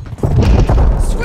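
A stun grenade goes off in a Domination match of Call of Duty: Modern Warfare 3 as one loud, close, booming burst. Voices shout around it.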